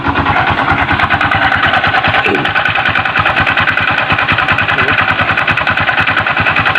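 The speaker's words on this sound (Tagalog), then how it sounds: "Maingay daw yung kanyang makina." A Honda XRM 125 motorcycle engine with a noisy fault idling loudly up close, a rough, rapid steady chugging with a rattly, grinding tone throughout.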